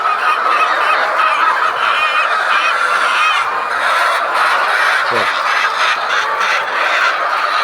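Egg-laying hens fill a poultry farm with loud, dense, overlapping clucks and squawks, a constant flock chorus that stays close and busy for the whole stretch.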